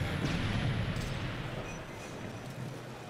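Grenade explosions and gunfire in Call of Duty: Modern Warfare 3 during a tournament match, heard as a dense, rumbling wash of booms and shots that stays loud throughout and fades slightly toward the end.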